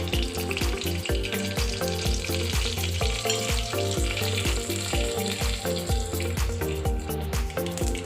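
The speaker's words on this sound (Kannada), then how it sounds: "ಎಣ್ಣೆ ಕಾದಿದೆ, ಸಾಸಿವೆ ಹಾಕ್ಕೋತಾ ಇದ್ದೀನಿ," Mustard seeds and cumin sizzle and crackle steadily in hot oil, a dense, continuous spatter heard over background music.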